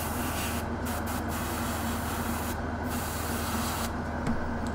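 Airbrush spraying undercoat onto a Knight Armiger miniature, a steady continuous hiss that runs through the whole stretch at moderate level with no talk.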